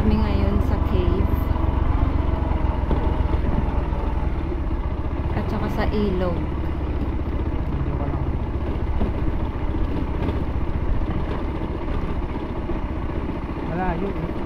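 Motorcycle ride to a river near a limestone cave campsite in Bulacan: a steady, close engine rumble drones throughout while people talk over it.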